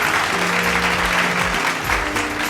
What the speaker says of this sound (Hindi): जोरदार तालियों के साथ में इनका हौसला बढ़ाएं।